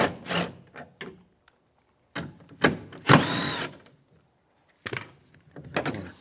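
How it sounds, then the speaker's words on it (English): A 10mm socket loosening nuts inside the door of a 2002-2008 Dodge Ram 1500, heard as short bursts of ratcheting and metallic scraping, close up, separated by quiet pauses, with one longer, buzzing run of rapid clicks in the middle. "Now we'll take those two nuts off. Just using a 10mm socket."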